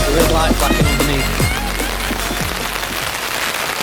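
Heavy rain falls at a winter carp fishing spot, a loud steady patter and hiss on nearby surfaces, with several scuffing thuds close to the microphone early on.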